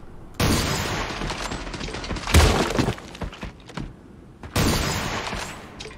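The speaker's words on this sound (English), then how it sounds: "I like to shoot them when they're moving" Bursts of gunfire in the video game Creative Destruction, firing at moving enemies: two long, loud sustained volleys framing a sharper shattering crack in the middle, with no talking.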